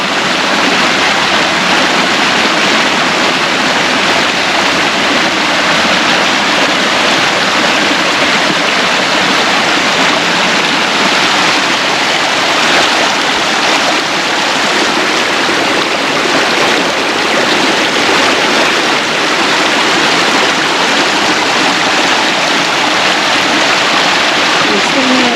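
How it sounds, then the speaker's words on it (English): A waterfall at a creek nature preserve on a farm, heard from its top as a loud, dense, unbroken roar of rushing water filling the whole stretch, with no clear talking over it. "We're standing at the top of that waterfall that we were just saying."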